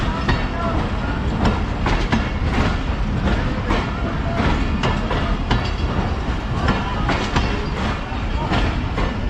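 A passenger train led by locomotive PHA 28301 rolls through Sargodha Junction railway station, a loud steady rumble with rhythmic clickety-clack of wheels over rail joints throughout.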